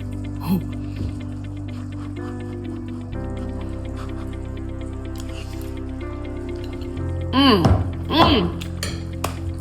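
Cutlery clinks and scrapes against a bowl as a hot protein bowl of beef, tomatoes and guacamole is stirred together, a few bright metallic taps standing out over a low kitchen hum.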